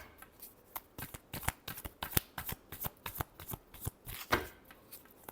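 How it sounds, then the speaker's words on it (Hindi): Tarot cards being shuffled in a run of crisp, rapid riffling bursts and slaps, close and fairly quiet, with no talking. "Last shuffle."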